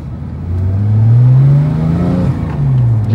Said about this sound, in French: C'était un double débrayage.